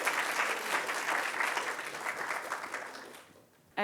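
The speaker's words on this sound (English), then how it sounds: "if we could give a round of applause to them" An audience applauds the first panel at a student discussion event, steady clapping that fades out toward the end before a voice cuts in.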